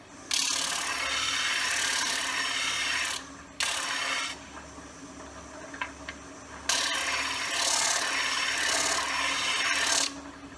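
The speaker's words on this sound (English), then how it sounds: "the disc sander. This is how I square up the ends of my blanks" A disc sander, on a Shopsmith, grinds against the end of a wooden pen blank in two long, loud passes separated by a quieter pause with the motor still whirring.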